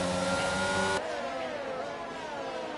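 An F1 22 video-game race car engine screams under acceleration down the pit straight at Singapore, a steady high-pitched whine that drops abruptly as the sound cuts to another car's rising note.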